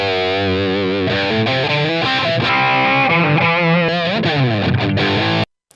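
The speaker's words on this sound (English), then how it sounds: "this unprocessed is a real amp through a real mic" Distorted electric guitar played through a real amplifier and captured by a microphone, a loud sustained run of chords and bending notes that stops abruptly near the end.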